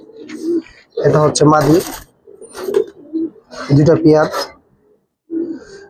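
A pair of snake-eyed pigeons, male and female, at a pigeon farm in Old Dhaka, coo in soft, repeated bursts close by, with someone talking over and between the calls.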